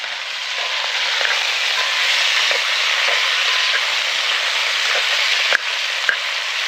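Sausages fry in a pan with a loud, continuous sizzle, joined by occasional light utensil taps and one sharper clank near the end as they are stirred.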